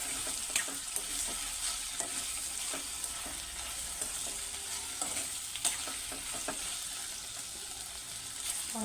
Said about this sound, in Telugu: నెక్స్ట్ ఇందులో కొత్తిమీర వేసి ఒక్కసారి కలుపుకుందాం.